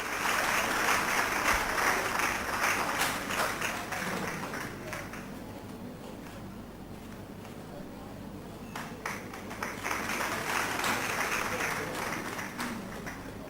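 An audience applauds at a college conference welcoming a guest of honor, dense clapping that eases off in the middle and swells again, with some murmur and talk underneath.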